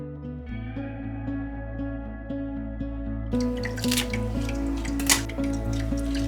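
Large outer leaf pulled and snapped off a baby bok choy plant grown indoors in an AeroGarden, heard as a few close crisp tearing crackles and squishy snaps over steady background music.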